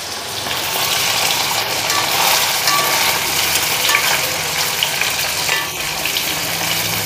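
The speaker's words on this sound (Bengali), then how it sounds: "এদিকে মাছ এক পিঠ ভাজা হয়ে গেল" Fish sizzling in hot oil in a pan, a steady, loud, unbroken frying hiss with no talking.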